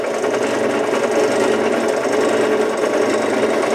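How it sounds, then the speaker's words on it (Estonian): A power drill runs steadily through a hole, a loud continuous buzzing whine held close to the microphone for the whole stretch, with no talking over it. "Nägid, oskad auku puurida."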